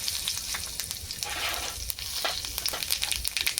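Whole dried chillies, bay leaf, cardamom, cumin and cloves fry in hot oil for a shahi egg korma, a close, steady crackling sizzle with scattered pops and no voices.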